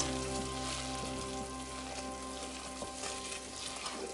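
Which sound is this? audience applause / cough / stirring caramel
stirring caramel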